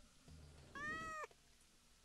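A cat in the modded game Terraria lets out a single clear, drawn-out meow in the middle, with quiet game sounds before and after and a soft thump at the end.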